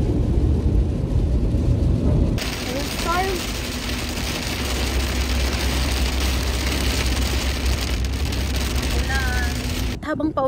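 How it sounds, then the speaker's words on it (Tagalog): Heavy rain pouring outdoors in Alberta, Canada, a dense steady hiss of downpour that fills the scene, with a few faint chirps and a low rumble underneath before it cuts off abruptly near the end. "Inabutan kami ng ulan. Yan na, lakas ng ulan."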